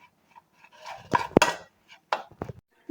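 Spices including coriander powder stirred together in a bowl for a chana masala fry, with a few sharp spoon-against-bowl clinks and scraping bursts spread over a few seconds, fairly close and alone.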